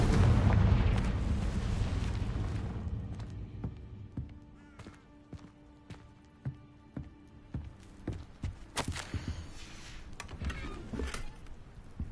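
A Confringo fire spell exploding in the Hogwarts Legacy video game: a loud, rumbling blast opens, then fades into a string of scattered crackling impacts and thuds that keep popping for several seconds.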